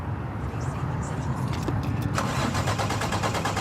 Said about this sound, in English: And then start the truck.